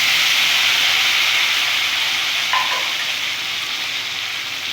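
Eggplant pieces fry in oil alongside green chillies, giving a steady, close, broadband sizzle that holds evenly throughout and fades slightly toward the end, with no one talking.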